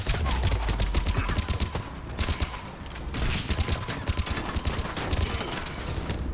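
Rapid bursts of video game gunfire from Mass Effect 3, dense repeated shots crackling through a loud firefight with heavy low thumps, continuous for several seconds with brief lulls.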